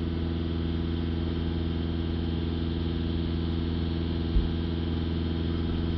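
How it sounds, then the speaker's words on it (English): A 2.0 TDI diesel engine in a VW Touran with a blocked particulate filter is held steady at 2500 RPM, giving a constant, even drone with no change in pitch. "I'm holding the revs up at 2500 RPM."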